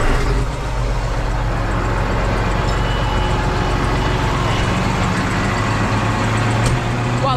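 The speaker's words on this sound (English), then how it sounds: "While the tractor warms up" A farm tractor warms up before disc work on wheat land, its engine idling loud and steady at close range throughout, with a constant low rumble and no speech over it.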